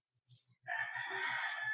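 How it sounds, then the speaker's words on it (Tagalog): A rooster crows loudly in one long sustained call, preceded by softer clucks, with a low rhythmic thumping running underneath throughout. "Pasensya na sa mga maingay na mga manok."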